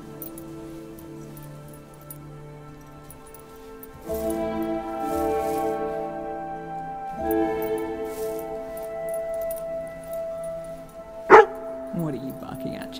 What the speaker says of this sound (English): What are you barking at, Chesley?